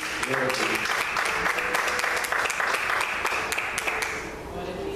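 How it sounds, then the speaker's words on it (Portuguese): A church congregation claps steadily, a dense patter of many hands with voices mixed in underneath, fading slightly at the end. "Aplauda o Senhor, em nome de Jesus, amém."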